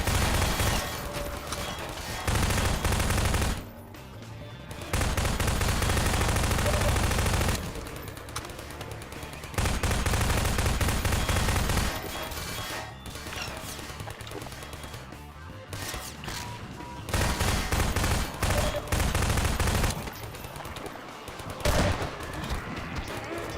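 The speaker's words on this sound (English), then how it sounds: "just good old-fashioned shooting fast zombies" Rapid video-game gunfire cuts down fast zombies in bursts, long loud volleys of automatic shots broken by short pauses and quieter stretches across the whole stretch.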